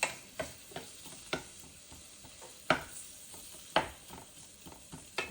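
Minced store-bought yellow onions sizzle in a pan with squash, a soft steady crackle broken by a few sharp clicks of stirring, close and fairly quiet with no talking.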